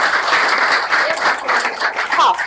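An audience claps in sustained, fairly loud applause at a children's music concert, with a few voices faintly mixed into the crowd noise.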